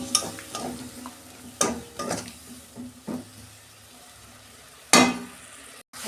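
Spice paste with tomato and a little water cooks down in a pan, with a soft simmering sizzle broken by several sharp spoon-against-pan stirring clanks, near and fairly quiet, with no voices.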